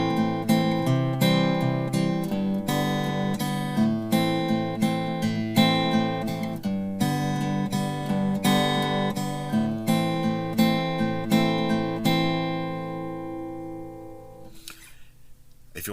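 Acoustic guitar fingerpicks a song's pattern in double time, a fast, steady stream of bright plucked notes with a driving thumb bass, played alone and clearly before fading out at the end.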